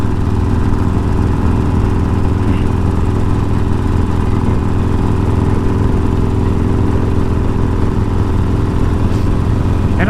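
A Harley-Davidson 48 motorcycle engine runs rough on a cold morning, a loud, steady, close low-pitched rumble with no breaks across the whole stretch.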